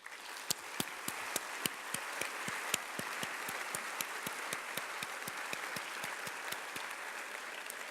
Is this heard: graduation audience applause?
yes